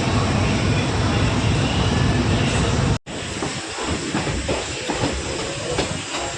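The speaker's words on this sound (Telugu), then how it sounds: "మన ట్రైన్ అయితే బయలుదేరిపోతుంది." Ballari–Hosapete DEMU passenger train 07398 pulls away from a station, heard from inside as a loud, steady rumble with hiss, cut sharply midway before wheel clatter and rolling noise carry on.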